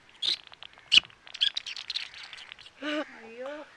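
An eight-year-old girl whistles and chirps in a bird-like voice, imitating a bird call: a string of quick tweets followed by a warbling call, close and clear.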